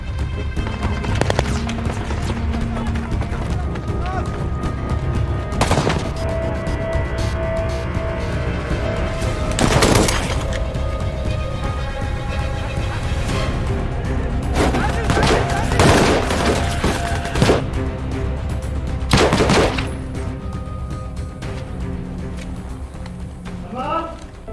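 Bursts of gunfire crack repeatedly over a dense, rumbling film battle soundscape of a SWAT team fighting in Mosul, with loud volleys around several moments and voices shouting beneath.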